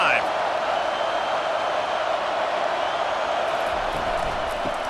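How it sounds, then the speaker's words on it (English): A packed stadium crowd in College Football 25 roars in a dense, continuous wall of cheering and noise that holds steady and loud from start to finish. "This crowd knows they have to bring it in big moments"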